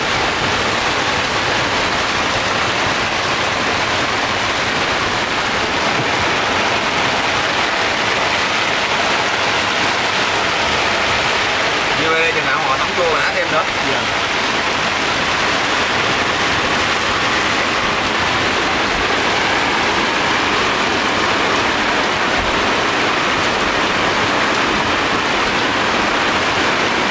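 A heavy thunderstorm pours rain over an open rice field, a loud, dense, unbroken hiss of downpour that stays steady throughout with no voices.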